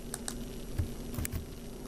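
Keys on a PC computer keyboard click in a few scattered, light taps over a faint steady hum, with no one talking.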